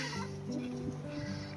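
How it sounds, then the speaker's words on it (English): A young, skittish chicken clucks softly at a beach area on Maui, giving low, faint clucks close by while someone talks quietly. "It's a pretty chicken."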